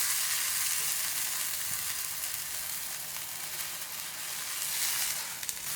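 Food frying in a pan over a medium flame, a steady bright sizzle that holds at an even level throughout with no talk over it.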